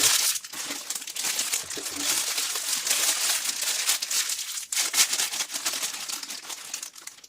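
A thin plastic Tesco crisps packet gets snipped open and handled, giving a close, busy stream of crinkling and rustling with a few sharper crackles, steady throughout and with no voices.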